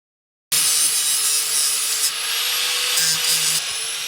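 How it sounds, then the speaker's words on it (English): A Jeep Comanche seat bracket is sanded with a steady, hissing abrasive rasp that runs continuously and close, with a slight drop in intensity midway and no voices. "So I spent way too much time sanding that down."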